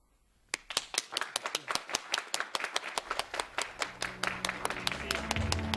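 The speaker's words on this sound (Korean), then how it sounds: "박수로 맞아주십시오." A hall audience claps to welcome a Korean envoy onto the stage, starting as sparse distinct claps and thickening into steady applause, with a faint voice or hum underneath toward the end.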